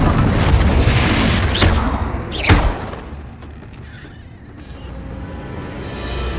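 A Confringo fire spell blasts in Hogwarts Legacy, a deep booming explosion with a sharp burst around the middle, set against a dense, rumbling game soundscape that fades into quieter ambience.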